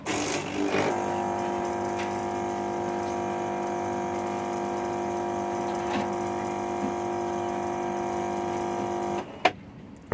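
A Bosch Benvenuto Classic coffee machine, its hydraulic system drained, rattles and hums steadily for about nine seconds while trying to rinse, then stops with a sharp click.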